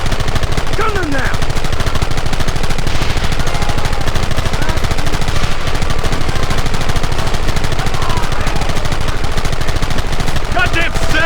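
Gunfire from the video game Red Dead Redemption: dense, continuous machine-gun and rifle bursts in a loud, unbroken battle din, with shouted voices mixed into the shooting.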